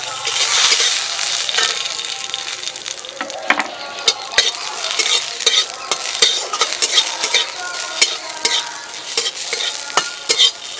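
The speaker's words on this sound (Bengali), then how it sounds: "কাজু আর এলাচ ভাজা হয়ে গেছে" Cashews and split cardamom pods fry in ghee, a steady bright sizzle with frequent scraping clicks of a spoon stirring against the pan, loud and close, with no voices.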